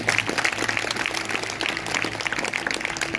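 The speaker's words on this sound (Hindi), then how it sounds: "अगर आई हैं तो जोरदार तालियां बजाएं।" A congregation at a Sunday church service claps loudly, a dense, continuous burst of many hands filling the short stretch without any talk over it.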